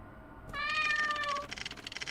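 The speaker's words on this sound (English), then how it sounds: "A kitty cat." A video game cat lets out a single clear, drawn-out meow, fairly close and loud, ending in a brief burst of softer noise, with no talking.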